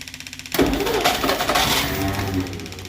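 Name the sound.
1963 Studebaker Champ engine cranking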